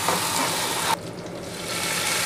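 Finely chopped green chillies sizzle in hot oil in a pot, a steady loud hiss that drops suddenly partway and then continues more softly.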